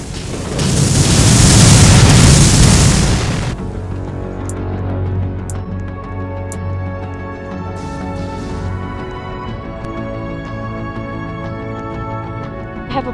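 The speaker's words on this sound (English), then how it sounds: "Chihuahua mortars are coming." Mortar explosions in the Cube Defense video game, a loud sustained blast roar for several seconds that drops to a steady hum with scattered game tones and clicks.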